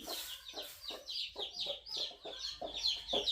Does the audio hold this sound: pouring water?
no